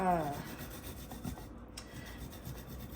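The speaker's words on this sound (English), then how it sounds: "I'm just gonna grate this garlic in here." Garlic is grated close by with a steady, soft rasping rub that continues through the whole stretch, faint and without talk.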